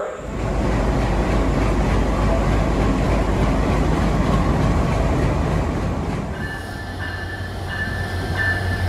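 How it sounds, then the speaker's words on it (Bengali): Simanta Express, a down train from Chilahati to Khulna, rolls into Ishwardi Junction at night, a loud, steady rumble of wheels with clickety-clack, easing slightly as it passes close by. "রাত 12টা বেজে 6 মিনিটে ঈশ্বরদী জাংশনে প্রবেশ করছে চিলাহাটি থেকে ছেড়ে আসা খুলনা অভিমুখী ডাউন সীমান্ত এক্সপ্রেস"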